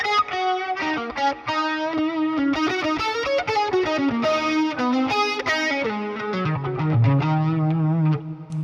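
Electric guitar run through a Helix modeler with a Timmy overdrive, playing smooth, lightly driven chords and single-note lines, steady and close, ending on a sustained low note with no talking.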